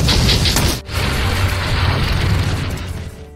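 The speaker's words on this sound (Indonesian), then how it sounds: "terjadi sebuah ledakan yang sangat keras" A loud explosion from an anime scene roars in at once, a dense rumbling blast with a sharp crack partway through, then a long sustained roar that slowly fades.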